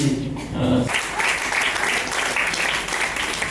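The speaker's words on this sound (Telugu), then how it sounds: "గట్టిగా చప్పట్లు కొట్టండి" A crowd of children and adults at a church vacation Bible school day bursts into sustained, dense applause that fills the room, following a brief spoken announcement.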